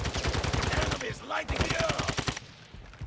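Rapid shotgun fire in Call of Duty DMZ, a dense run of loud, evenly spaced blasts that briefly pauses and then resumes before cutting off to near quiet.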